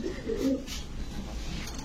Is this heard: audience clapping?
no